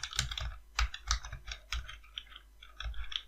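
Rapid keystrokes on a computer keyboard while JavaScript form-validation code is typed, arriving in quick irregular clusters with brief pauses, close and clear with no voices.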